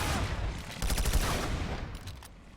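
Bolter sniper rifle fire in a Planetside 2 match, a dense fusillade of overlapping gunshots and rapid cracks from a large battle, loud and sustained with no one talking over it.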